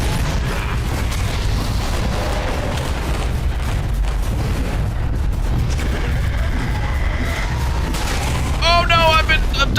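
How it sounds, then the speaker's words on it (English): Grenade explosions go off one after another in a cramped little room during a video game firefight, producing dense rumbling booms under continuous game noise, with a brighter burst near the end. "there's so many fucking grenades getting tossed in that little room"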